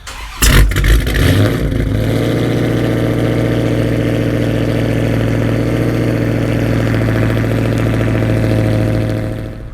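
Dodge Charger Hellcat V8 engine starting by remote start and then settling into a steady, loud, rumbling idle that holds close and continuous for several seconds before fading slightly at the end.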